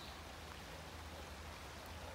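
Steady rushing of water flowing outdoors at night in Cape Town, a continuous broadband wash that stays even and fairly close throughout, with no speech.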